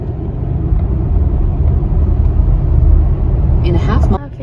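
A car drives onto a Los Angeles freeway with a steady low road rumble from inside the cabin. Near the end a brief higher clatter cuts in, then the rumble drops away.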